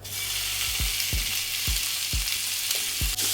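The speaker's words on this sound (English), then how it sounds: "we are going to render the bacon" Bacon renders its fat in a pan, giving a steady, close sizzle with a row of low thumps at regular intervals, probably from a utensil hitting the pan. No one speaks.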